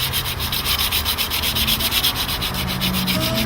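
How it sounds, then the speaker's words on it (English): Rhythmic rasping strokes come from cleaning up and sharpening the blade of a crude handmade tribal knife. The grinding is loud, close and evenly paced throughout. "all we need to do is clean up the blade, re-hone it, sharpen it up"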